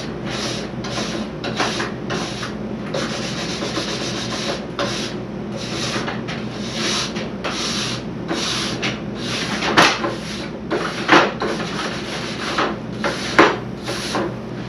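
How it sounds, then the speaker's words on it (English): A coarse brush scrubs the base of a waxless cross-country ski with quick, repeated rasping strokes. The steady close-up rhythm has a few sharper, louder strokes near the end, and no one speaks. "So I'll just give it a couple of quick brushes."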